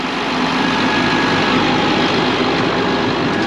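A heavy tractor engine drones steadily at idle, a dense, even rumble filling the whole moment without pauses.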